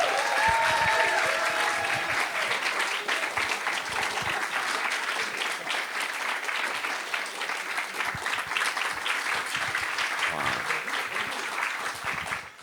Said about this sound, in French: je vous demande de l'applaudir avec autant d'entrain que la première fois